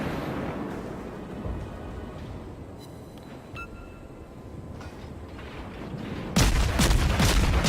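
Naval guns fire high-explosive shells in World of Warships: a low rumbling battle bed with scattered distant booms, ending in a loud, sharp close salvo.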